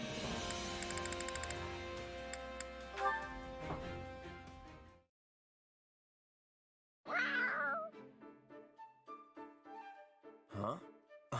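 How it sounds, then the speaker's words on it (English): A cat in the video game Fire Emblem Three Hopes gives several short meows and cries after a silent gap, following music and a sustained chord, while character speech plays around it. "Oh, it's a cat. Looks like something spooked it."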